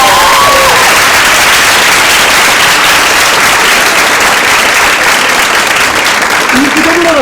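Audience applause after a theatre play at a university stage production, loud sustained clapping from a large crowd filling the hall, with a voice briefly heard under it.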